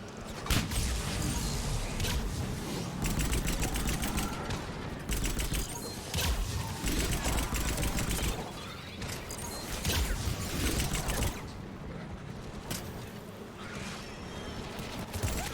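Gunfire in the Mass Effect 3 multiplayer video game: sustained loud rattling volleys and sharp repeated shots fill the whole stretch, with brief lulls between heavy bursts.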